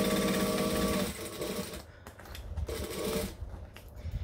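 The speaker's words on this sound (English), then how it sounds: "So I'm gonna stitch and backstitch." A sewing machine stitching and backstitching a tote bag, running in a loud steady whir, pausing, then running again in shorter bursts, close by.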